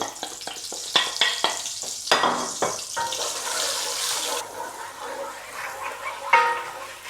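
Spices, including coriander powder and salt, frying and being stirred rapidly in a pan for an onion-free curry base gravy, giving a loud sizzle with repeated scraping strokes and clatter, close up and without speech.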